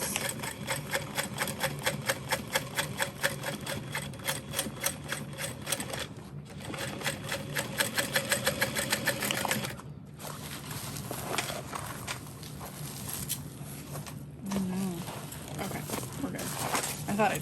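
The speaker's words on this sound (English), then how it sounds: "keep my lining out of the way and only sew through my exterior" A sewing machine topstitches through the exterior of a Betty Bowler bag in a steady, rapid mechanical rattle, broken by short pauses.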